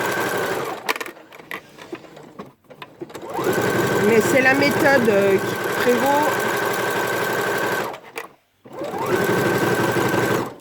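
Sewing machine running fast, stitching a facing onto jersey fabric, a loud steady whirring hum in two long runs with a brief pause between, while a person talks over it.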